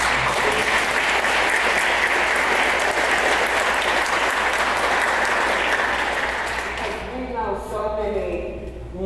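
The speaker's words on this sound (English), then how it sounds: "let's give them a round of applause" Sustained, dense audience applause at a talk with two speakers, steady and loud for several seconds before thinning out as voices begin to speak at the end.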